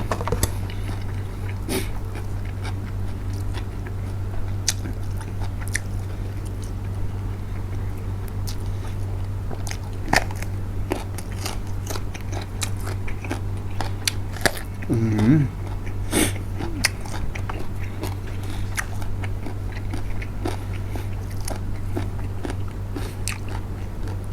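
Someone eating spicy pounded small rice noodles with shrimp, with soft close chewing and biting sounds scattered over a constant low hum, and occasional brief voices in between.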